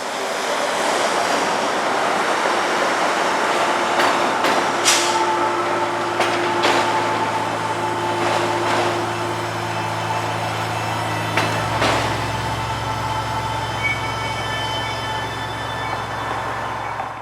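Norfolk Southern freight train with international containers and autorack cars passing beneath a bridge, a steady loud rolling rumble with rhythmic wheel clunks, faint squeals and a low engine drone joining later.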